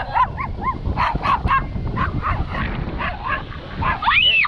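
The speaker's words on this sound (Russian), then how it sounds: "Ты видишь собачку на ручке?" A dog barks and yips repeatedly with whimpering cries in between, loud and close, at a lakeside spot by the Pavlovsk reservoir in Chemaevo.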